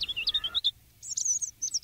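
Songbirds chirp in a forest, sharp high tweets in quick bursts, a short pause, then another run of bright calls, fairly close and clear with no talk.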